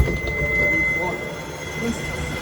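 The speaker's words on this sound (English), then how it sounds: "There's a tram that's just gone." A tram departs Victoria station in Manchester with a steady rumble and a faint high whine from the rails, moderately close, with no voices.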